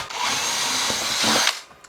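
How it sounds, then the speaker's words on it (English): A power drill bores holes through foam and plastic for a post-apocalyptic LARP shield, a steady close whir running continuously for under two seconds before spinning down. "now I'm going to get my drill and make some holes"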